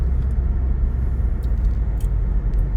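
A car driving through a residential neighborhood and pulling up at a house, heard as a steady, loud low road and engine rumble with no talking.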